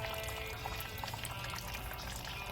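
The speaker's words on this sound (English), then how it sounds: "I'm just pouring clean water in, and that brown stuff just keeps on coming" Clean water poured into the cooling system of a 1995 Jeep Cherokee during a flush, a steady close gurgling, splashing stream running throughout without any talk.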